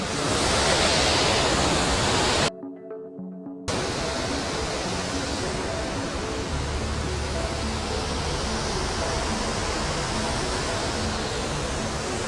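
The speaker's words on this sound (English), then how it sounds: "this beautiful waterfall." A waterfall in dense forest among tea gardens near Munnar, Kerala, gives a steady, loud, full roar of falling water throughout, broken only by a brief sudden dropout.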